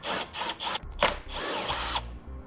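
Power drill backing out T30 Torx screws beneath the bumper cover of a 2018 Ram ProMaster van, several short close whirring bursts with brief pauses between them.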